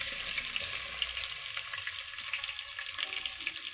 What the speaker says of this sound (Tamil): பூண்டு போட்டு வதக்கிட்டு